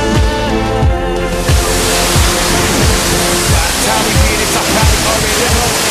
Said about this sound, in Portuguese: A gente acabou de chegar agora aqui no lugar mais esperado por todos, que é a Cachoeira do Riachão.